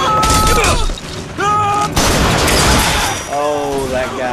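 Rocket fire and explosions in Bioshock Infinite come as loud, close blasts and bursts packed into a few seconds, with whistling, sweeping tones in between and over them.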